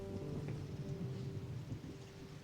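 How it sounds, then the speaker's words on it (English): Steady, soft rainfall with a low rumble of thunder rolling beneath it, continuous and fairly distant, with no voices. "the heavens opened and the rain came"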